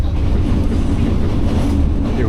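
Passenger train riding through Vietnam from Hanoi, a steady loud rumble of wheels on rails with clickety-clack under a constant interior roar, no voices standing out.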